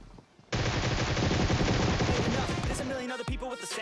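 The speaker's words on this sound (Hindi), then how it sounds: "मैं अंधा फायरिंग स्टार्ट करता हूँ" Blind automatic gunfire in PUBG Mobile, with a Groza and a DP, erupts suddenly into a loud, dense burst of rapid shots that runs for about three seconds before trailing off, close up and with no voices.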